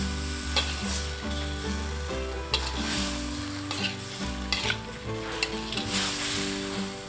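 Snails in spicy balado sauce are stirred in a wok, loud steady sizzling with repeated scraping and knocking of the spatula against the metal, while music plays underneath.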